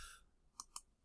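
Two faint, sharp button clicks on a graphing calculator as the graph key is pressed, spaced about a fifth of a second apart in a quiet room.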